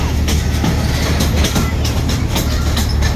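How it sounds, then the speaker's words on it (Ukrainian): Carpathian narrow-gauge tourist tram train on the Vyhoda line rolls along the rails, a loud close steady rumble with rhythmic clickety-clack wheel beats repeating throughout. "Наш трамвайчик зараз їде на маневри."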